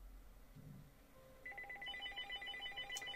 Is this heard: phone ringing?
yes